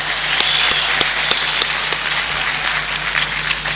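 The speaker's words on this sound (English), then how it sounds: "Let's give it a clap." Applause from the audience at a university graduation ceremony, a dense, even patter of many hands with a few sharper claps standing out, heard through a livestream feed.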